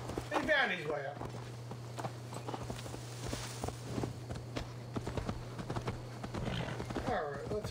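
A horse's hooves clip-clop at a walk in the video game Assassin's Creed Valhalla, steady close steps under game ambience and brief character vocal sounds.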